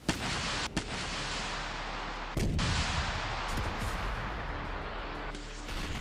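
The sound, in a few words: explosions from bombing in Gaza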